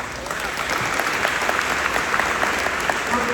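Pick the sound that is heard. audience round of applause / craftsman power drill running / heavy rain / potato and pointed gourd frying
audience round of applause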